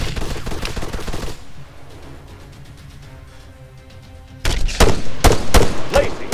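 Bursts of automatic gunfire in the military shooter game ArmA 3 start the clip loud and rapid, drop to a quieter stretch of distant rumble, then return as close, sharp repeated shots near the end.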